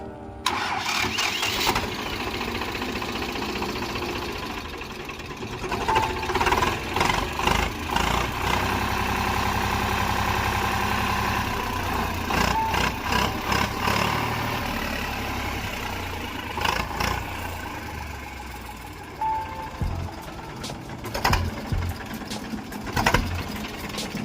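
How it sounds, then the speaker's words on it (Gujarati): An old Eicher 368 diesel tractor engine idles close by with a steady rattling chug, revving up briefly a few times before settling again. "ટ્રેક્ટર ચાલુ કરીને પણ બતાવીશું, જે આપ જોઈ શકો છો તેમનો અવાજ પણ ફૂલ પાવરફુલ છે"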